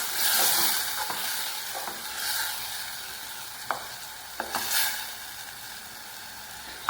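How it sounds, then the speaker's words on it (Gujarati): A hot tempering of mustard seeds with garlic, chili and ginger paste sizzles loudly over crumbled millet rotla, a steady frying hiss broken by a few sharp clinks and scrapes of stirring. "મસ્ત વઘાર દઈ દીધો."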